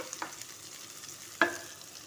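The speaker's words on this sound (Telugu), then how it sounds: "ఇప్పుడు ఇందులోనికి ఒక టేబుల్ స్పూన్ అల్లం వెల్లుల్లి మసాలా వేసుకొని వేయించుకోవాలి" Ginger garlic paste and cabbage frying in a pan: a faint, quiet sizzle punctuated by two sharp clinks of a spoon against the pan, with no voices.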